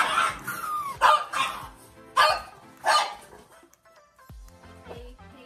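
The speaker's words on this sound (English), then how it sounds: "you're gonna hear the dogs bark" Dogs bark loudly and close by in a home kitchen as an immersion blender comes out. Several sharp barks arrive in quick bursts, then a quieter stretch with faint rustling.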